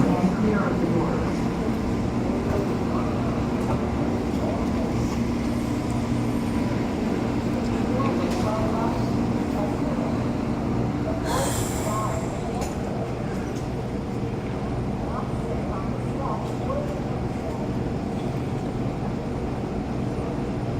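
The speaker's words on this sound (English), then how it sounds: "The train is arriving." A low, continuous rumble of an airport terminal train arriving at a station, with mechanical hum and a brief higher squeal partway through, no distinct voices.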